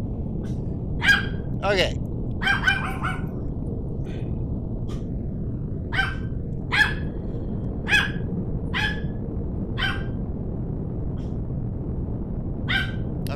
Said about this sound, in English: my dog is a yappy little guy that won't shut up